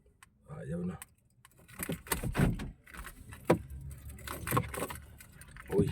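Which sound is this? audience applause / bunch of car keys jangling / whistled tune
bunch of car keys jangling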